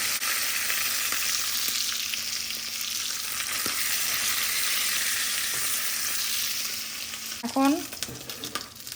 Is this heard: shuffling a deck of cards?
no